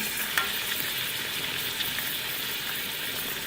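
Fish head curry sizzles and fries in a pan as curry leaves, salt and red chilli go in. The hiss is steady and close, with a faint stir or clatter now and then and no voice.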